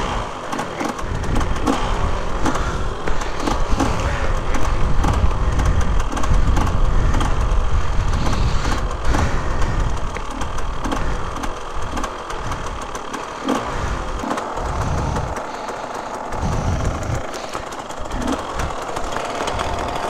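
An enduro motorcycle engine idles nearby at a dirt-bike rally in Rivadavia, Mendoza, with a steady low rumble and occasional small revs mixed into busy outdoor background noise.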